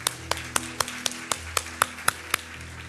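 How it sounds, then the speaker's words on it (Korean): A church congregation claps together during a Sunday service, about a dozen crisp, evenly spaced claps in unison over a low steady hum, with no voices. "우리 하나님께 감사와 영광과 박수를 드리겠습니다."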